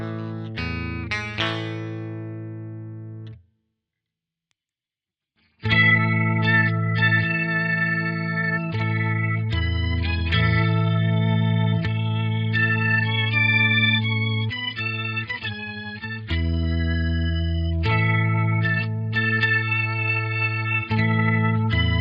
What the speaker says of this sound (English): what comes out is the sound of an organ